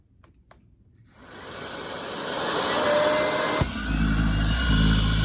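A few clicks, then a cordless vacuum cleaner motor spins up into a loud, steady whine that keeps running.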